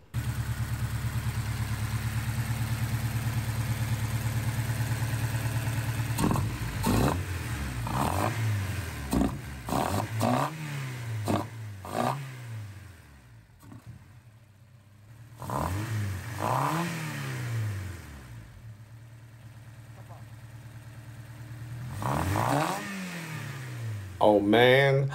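A Honda K20A engine fitted with individual throttle bodies revs repeatedly, heard from outside the car: sharp rising and falling blips with loud induction roar over a steady idle, and quieter pauses between bursts.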